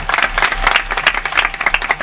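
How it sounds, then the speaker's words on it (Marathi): Kirtan audience breaks into lively, dense clapping, a loud sustained patter of many hands close by with a faint crowd murmur beneath. "एकदा तर बघा टाळ्या वाजव."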